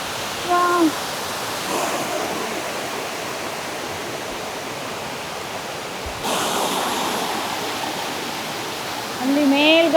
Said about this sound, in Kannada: ಅಲ್ಲಿ ಮೇಲ್ಗಡೆಯಿಂದ ನೀರು ಬೀಳುತ್ತೆ.